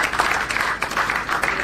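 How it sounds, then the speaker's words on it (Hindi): Loud, dense applause from a crowd welcoming Professor Hansraj Yadav in his village, close and continuous with rapid overlapping claps. "भाई एक बार जोरदार तालियों के साथ स्वागत करेंगे।"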